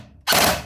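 PP19 Arcturus airsoft AEG fires a full-auto burst, starting abruptly after a brief quiet moment as a loud, dense, continuous rapid rattle of shots close to the microphone.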